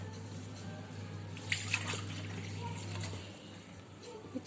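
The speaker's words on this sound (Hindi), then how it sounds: "तो ये 1 गिलास से मैं पानी भी डालूंगी" Water poured from a glass into a pot of mutton pulao, a soft, faint splash lasting about three seconds before stopping, with a few small clinks afterward.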